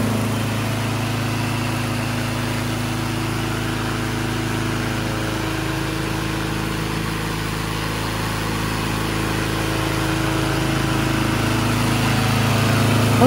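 A rubber-track remote-operated slope mower, the VTLM800, runs its engine at a steady idle, a continuous low drone with a mild rise in throttle near the end, heard alone without talk.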